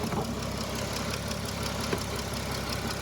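A Dodge Durango engine running with a fault noise, a steady mid-pitched idle with faint rapid ticking repeating throughout, heard up close.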